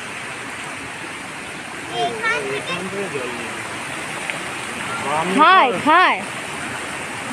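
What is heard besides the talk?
sound of flowing water at a waterfall in Purulia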